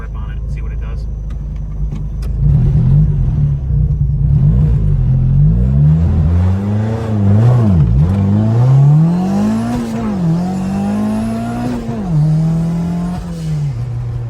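A project car launches hard on a street, doing a wheelie, its engine revving loudly through rising and falling pitch sweeps as it accelerates and shifts, close and dominant with some voices in the background.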